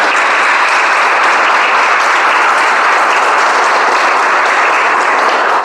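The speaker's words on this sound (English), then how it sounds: "If you don't clap for the other person, they will not clap for you." An audience at a speech club meeting applauds, a steady, dense wash of many hands clapping that holds loud and even throughout, with no talking.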